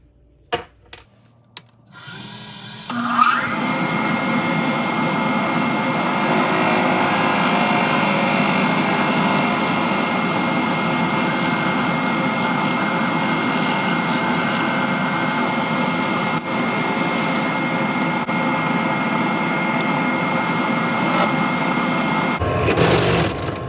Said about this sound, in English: I'm going to pre-drill these with a 1/2 inch